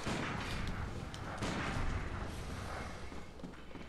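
Gunfire in Bloodborne comes as a dense, continuous barrage of harsh shots and booms, fairly loud and crowded together, with no clear voices.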